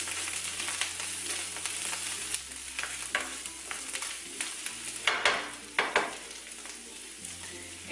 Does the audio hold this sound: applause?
no